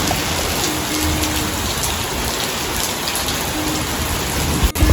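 Heavy monsoon rain pours steadily and loudly onto a small tin-roofed hut, a dense unbroken roar with a brief sharp knock near the end, during a thunderstorm with lightning.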